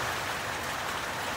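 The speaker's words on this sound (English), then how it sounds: "Once again, this is the rain." Steady rain showers falling outdoors in a rural Australian setting, a constant even hiss with no breaks or other sounds.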